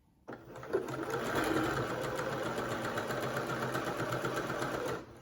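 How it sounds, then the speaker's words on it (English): A sewing machine stitches a seam through double gauze fabric for an infinity scarf, running as one steady, continuous whir for about five seconds at close range with no pauses and no one talking. "I'm just going to sew down that seam there."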